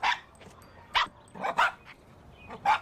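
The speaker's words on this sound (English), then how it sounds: "Ma'am, would you please take the dog away?" A dog barks in short, sharp bursts, four or five clear barks spaced irregularly at moderate distance over a quiet background during a police visit at a home doorstep.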